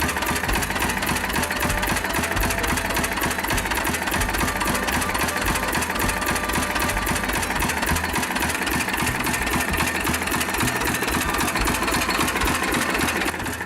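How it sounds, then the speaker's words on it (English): A St. Mary's 20 horsepower hot-bulb oil engine, a heavy oil-field power unit, runs steadily with a fast, even mechanical knocking beat, loud and close, with no voices. "the St. Mary's 20 horsepower unit, a true iron beast built to punish heavy duty in oil fields"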